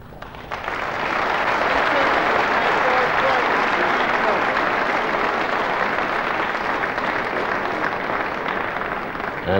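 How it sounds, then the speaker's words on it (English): Sustained, loud applause from the crowd at the 1980 Woodpecker Welsh Professional Snooker Championship final, rising quickly and holding steady to the end with no voices on top. "as the applause dies there"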